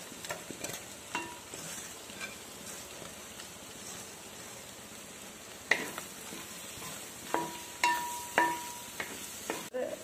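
Egg and chicken frying in a pan while noodles are being made, with a steady low sizzle and a series of sharper stirring scrapes and clacks that grow louder toward the end.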